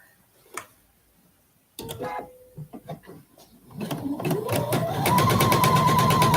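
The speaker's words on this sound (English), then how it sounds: "I want to try to sew" A home sewing machine runs on a quilt block, starting slow after some handling clicks and rustles, then speeding up into a steady, close, loud whirring drone that holds to the end.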